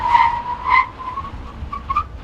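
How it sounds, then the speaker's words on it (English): A 2013 Lexus GS350 F Sport brakes hard from 60 mph to a stop, its tires giving a loud, wavering squeal that fades in and out over about two seconds. "And now we do our 60 to 0 braking test."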